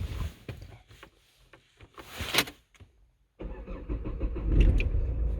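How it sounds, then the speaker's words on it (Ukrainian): A Renault Megane 2 engine cranks and starts using a programmed key card, with clicks and handling noises first, a brief pause, then the engine catching and running steadily up close. "А ну ми зараз спробуємо завести автомобіль з цим ключем."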